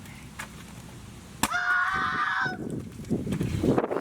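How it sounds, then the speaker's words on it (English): A mother duck outdoors lets out one loud, drawn-out nasal honk lasting about a second, close by, followed by rustling and faint background noise. "Here's Mama Duck."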